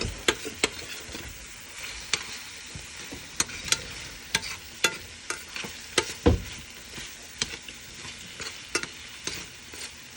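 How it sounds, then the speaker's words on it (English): Onions fry in a pan under a steady sizzle while a utensil stirs them, scraping and tapping against the pan in repeated irregular strokes, close and fairly loud, with nobody speaking. "Let me stir my onions, get it to be as translucent and as cooked as possible."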